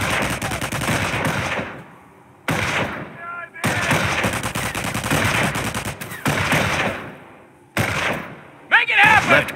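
Machine gun fire in the 2006 PC strategy game Company of Heroes, loud sustained rattling bursts from a World War II infantry battle, broken by a few short pauses, close and continuous, with a voice briefly heard near the end.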